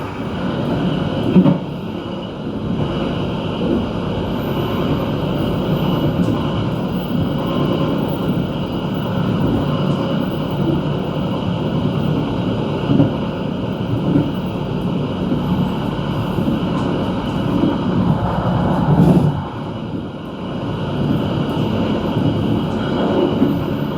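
Inside the KA Taksaka passenger train running from Yogyakarta to Jakarta, a steady, close rumble of wheels on track continues throughout, with faint knocks and no speech.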